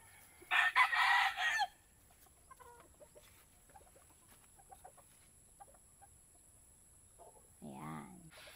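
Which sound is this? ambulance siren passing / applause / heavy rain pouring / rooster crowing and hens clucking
rooster crowing and hens clucking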